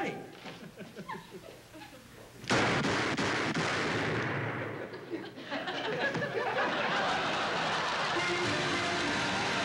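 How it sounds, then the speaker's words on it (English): Gunfire sound effect in a 1960 radio comedy: after quiet talk and laughter, a sudden loud burst of shots hits and rings on, with audience laughter and voices continuing underneath. "Now, when I say ready, fire."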